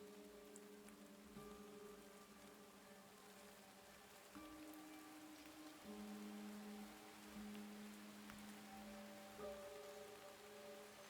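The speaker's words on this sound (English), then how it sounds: "Do you enjoy your rain ambience?" Soft rain ambience playing faintly and steadily, overlaid with quiet sustained musical tones that shift pitch every few seconds; no one speaks.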